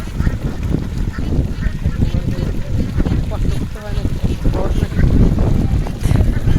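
Ducks on a duck farm give out honking, quacking calls in a continuous noisy chorus, with people talking over them outdoors in wind.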